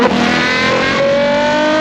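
A Ferrari Purosangue V12 fitted with a Novitec exhaust, tuned to 755 horsepower, revs loudly and steadily close by, its engine tone holding and rising slightly with no voices over it.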